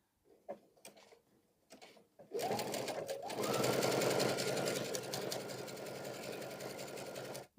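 A Baby Lock Soprano sewing machine stitches a zigzag with twin needles. A few quiet clicks come first, then a loud, close, steady mechanical whir runs for several seconds before stopping.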